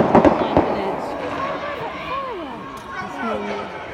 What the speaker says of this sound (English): Fireworks, don't worry about it.